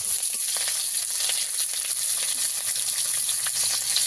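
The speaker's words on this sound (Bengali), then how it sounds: "কিছুটা জিরে ফোড়ন দিয়ে দেব। সব কিছু একটু ভালো করে ভেজে নেব।" Cumin seeds, bay leaves and green chillies frying in hot oil as a tempering for dal, a close, continuous crackling sizzle with light stirring sounds and no voices.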